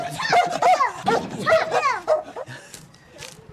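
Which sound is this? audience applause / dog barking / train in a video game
dog barking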